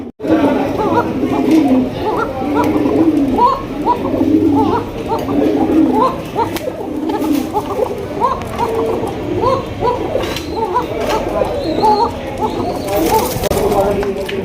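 A flock of domestic pigeons kept for sale coo continuously in a dense, layered chorus close by, with occasional wing flutters and people talking over them.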